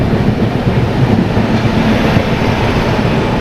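The Chhattisgarh Express rumbles through Bhopal station with a loud, continuous rolling drone of wheels and carriages, no voices over it.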